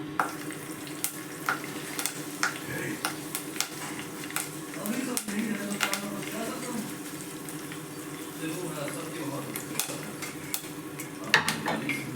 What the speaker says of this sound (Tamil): அது நல்லா பொரிஞ்சதுக்கப்புறம் தக்காளி போடுங்க.